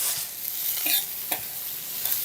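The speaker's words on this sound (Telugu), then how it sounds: "దాదాపుగా మన పోపు అంతా వేగిపోయింది" A tempering of green chillies and curry leaves sizzles in hot oil while being stirred, with soft crackles and a few scraping stirs over a steady fry, and no talking.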